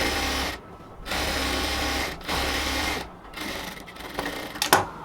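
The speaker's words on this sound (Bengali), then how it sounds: "এই জন্য আমি উপর থেকে নিচ পর্যন্ত এবার সেলাই করে যাচ্ছি।" A sewing machine stitches a seam on a ladies' cotton pant from top to bottom, running in loud whirring bursts separated by short pauses, close up, with a small click near the end.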